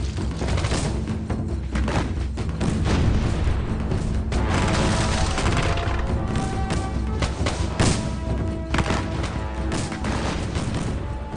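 Sustained battle din from the War of 1812's Battle of North Point: dense, loud, continuous rumble of cannon booms and musket fire with crashing impacts layered throughout, no clear pauses.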